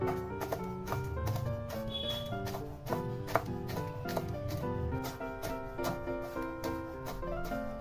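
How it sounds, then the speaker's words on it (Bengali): A knife finely chops fresh gondhoraj lemon leaves on a board in quick, regular taps, heard together with melodic background music. "3টা লেবুর পাতার বোটার দিকটা বাদ দিয়ে কুচি কুচি করে কেটে নেবে।"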